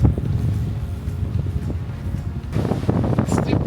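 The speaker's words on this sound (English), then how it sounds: "Super windy here." Strong Patagonian wind roars and buffets the microphone in a continuous low rumble, gusting harder toward the end, with no talk over it.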